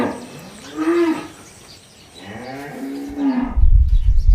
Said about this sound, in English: Cows are herd animals.